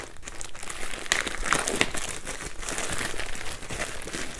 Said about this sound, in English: Let's rip this up here.